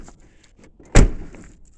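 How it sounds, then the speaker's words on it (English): A 2007 Chevy Silverado pickup door shuts with a single loud, solid thud, surrounded by quiet background. "Shut that door."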